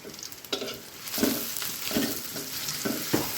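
Tempering (baghar) crackling in hot oil for a pot of mung dal, a close, continuous sizzle broken by repeated bursts of spattering and stirring at a loose, steady pace.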